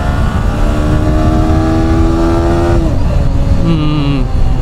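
A Yamaha R15 V4 motorcycle engine revs loudly and close during a ride, its whining tone climbing steadily before dropping and rising again over a constant wind rush.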